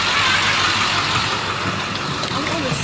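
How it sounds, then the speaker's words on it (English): A school bus engine runs at a steady idle, a constant broadband rumble filling the whole moment with faint chatter mixed in underneath. "We're on the school bus"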